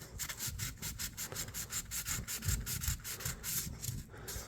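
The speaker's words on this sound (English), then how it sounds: "You can always take a little sandpaper, get down in there," Sandpaper rubs back and forth in the blade channels of a classic CAMCO 229 electrician's knife, producing a fast, steady rhythm of quiet, close scratchy strokes with no talking.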